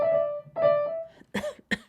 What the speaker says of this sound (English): Excuse me, I actually am coughing.